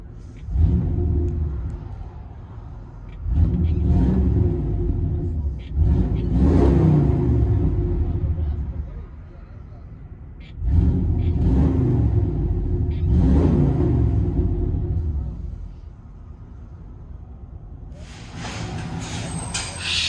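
A car engine with a Flowmaster big block muffler, heard from inside the car, revs in several deep, rumbling swells that rise and fall. Each swell is followed by a quieter idle.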